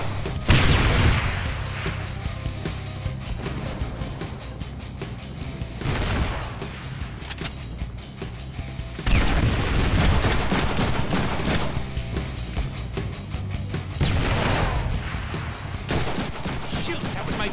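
Repeated bursts of gunfire in the Deadpool video game on PS4 come in loud volleys every few seconds over a steady bed of game noise.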